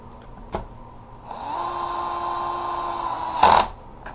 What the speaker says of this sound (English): Now I can put the screws back in it. Torque is down to 5.